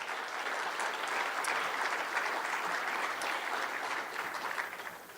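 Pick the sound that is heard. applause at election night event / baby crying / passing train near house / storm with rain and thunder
applause at election night event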